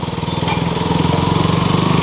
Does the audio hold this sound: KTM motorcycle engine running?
yes